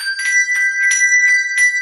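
English handbells ring a short sequence of bright, clear tones, struck one after another at an even pace, each note sustaining with a pure ringing shimmer, close and fairly loud with no voices.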